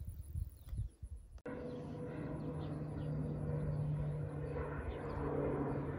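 A crop-dusting spray plane passes overhead in a rural field, its propeller engine surging in abruptly after a few quiet seconds and then droning loud and steady, with faint birdsong in the background.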